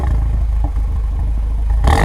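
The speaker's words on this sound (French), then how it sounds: "je crois qu'on va faire le petit test d'échappement pendant qu'on y est" An Audi TT fitted with an ABT exhaust, a silencer and tailpipes, rumbles loudly and close by during an exhaust test, holding a deep steady drone before a sudden louder surge at the end.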